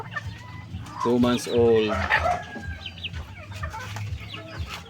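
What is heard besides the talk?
Japanese Shamo chickens clucking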